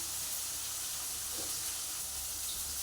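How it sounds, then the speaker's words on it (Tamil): Onions, green chillies and curry leaves sauté in a pan for a chicken curry, giving off a steady broadband sizzle that holds throughout with no talk over it. "இப்போ வெங்காயம் மிளகாயெல்லாம் நல்லா வதங்கிட்டு இருக்குது."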